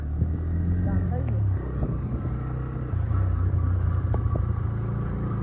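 A motor vehicle rumbles past on a crowded road, a low steady engine drone with a slight pitch shift, heard under people talking nearby.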